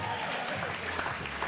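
Crowd applause for two cruiserweight boxers at an amateur boxing event, a dense continuous burst of clapping and cheering at steady loudness throughout.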